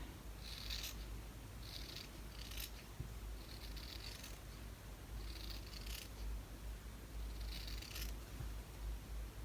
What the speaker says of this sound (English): I'm just going to cut this batting.